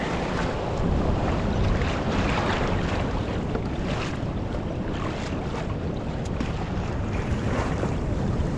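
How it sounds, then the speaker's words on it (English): Steady ocean swell and wind roar around a kayak off the Oregon Coast, a continuous loud wash of water and wind buffeting the microphone with no talking. "We just rode over a little swell."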